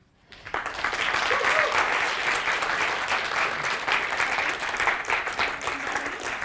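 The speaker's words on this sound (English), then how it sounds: "let's give a round of applause to the team" Applause for the organising team at the Digital Construction 2022 finals event starts after a brief quiet moment, then rises to a sustained, dense crowd clapping that carries on steadily.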